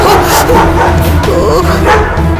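Several dogs barking and yelping loudly and close, overlapping in rapid bursts with some whimpering tones mixed in.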